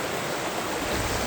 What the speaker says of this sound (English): we're here at another stream